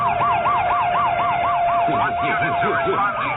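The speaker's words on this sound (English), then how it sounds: "hit the lights and the siren." A police car siren wails loud and close in a steady rising-and-falling cycle, with a second overlapping siren tone and vehicle engine noise beneath it on a city street.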